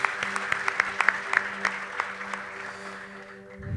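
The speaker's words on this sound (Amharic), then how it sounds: "አጨብጭቡ።" Congregation applause in a church service, a steady patter of many hands clapping with some sharper individual claps, fading out toward the end.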